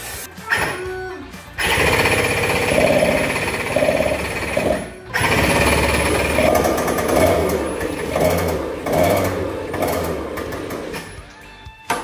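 A newly bought quad engine starts up and runs loud and close, a steady buzzing drone with a brief cutout midway before it catches again and idles on.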